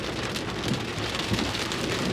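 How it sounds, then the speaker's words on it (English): Rain falls steadily in a continuous hiss of drops on surfaces, a dense even wash of moderate loudness with faint low rumbles underneath and no talking. "And the rain got me."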